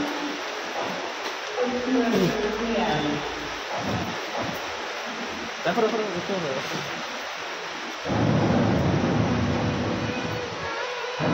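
Steady heavy rain hisses during a thunderstorm in the hill town of Lava, swelling noticeably louder toward the end, while people talk nearby.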